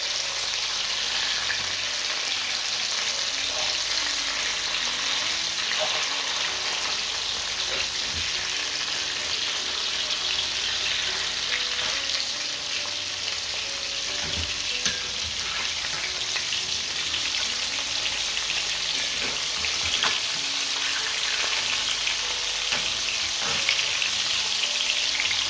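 Pork ribs frying in a pan, a steady close sizzle with crackling spits running throughout, no voices over it.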